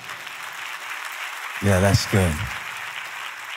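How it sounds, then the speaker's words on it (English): A church congregation claps during a sermon, with steady applause running through the whole moment and someone speaking briefly over it. "Clap on that if you're an unlikely candidate too."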